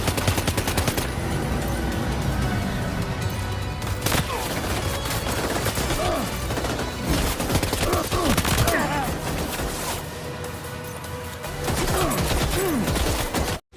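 Gunfire in Death Stranding 2 aimed at enemies' legs: dense, continuous bursts of shots and impacts with game sounds layered over a loud, busy mix throughout.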